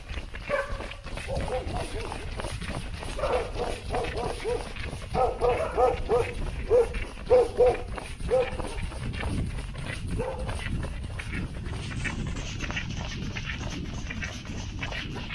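Dogs barking on a Vitosha mountain trail during a race, a burst of yips and barks in the middle under ongoing background noise and people talking nearby.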